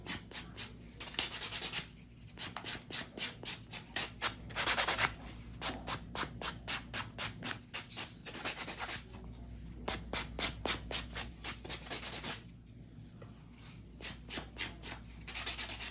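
Rapid back-and-forth rubbing of a buffer on acrylic nails during a refill, close scratchy strokes in quick bursts separated by brief pauses, no voices.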